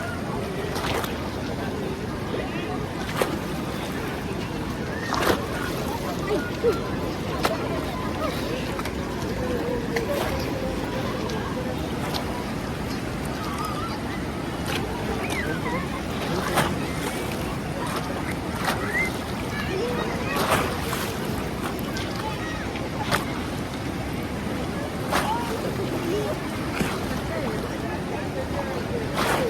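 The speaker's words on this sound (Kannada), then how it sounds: "ಈ ಭೋರ್ಗರೆಯುವ ನದಿಯ ಶಬ್ದ ನಿಮಗೆ ಕೇಳ್ತಾ ಇದೆ ಅನ್ಕೊತೀನಿ" The Netravati river rushes loudly and steadily in monsoon flow, a constant broadband roar with wind buffeting the microphone and scattered splashing spikes throughout.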